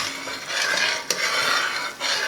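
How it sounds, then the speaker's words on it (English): Thick caramel mixture bubbling up in a large Dutch oven pot, with a steady, close, textured bubbling and stirring noise and a brief clink of a utensil partway through, no voices. "Now notice how much it's bubbling up, and that's why you start with a great big pot"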